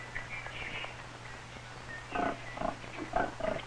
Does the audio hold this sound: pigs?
yes